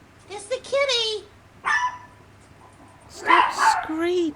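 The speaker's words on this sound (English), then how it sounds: "Stop screeching and setting your dogs off." Dogs bark and yip in short bursts at close range, mixed with whiny, voice-like sounds across the few seconds.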